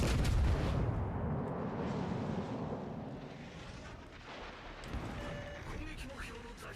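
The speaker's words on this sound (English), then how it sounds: "Fire on that enemy warship." Warship guns firing in World of Warships: Legends, a heavy booming salvo at the start fading into rumbling sea and battle noise, with a person talking over it.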